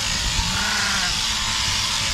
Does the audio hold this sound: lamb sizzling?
no